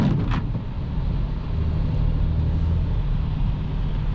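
A BMW X5 E70 3.0 SD diesel with 286 HP cruising in sixth gear through city traffic, a steady low engine drone and road rumble heard from inside the cabin, even in level throughout.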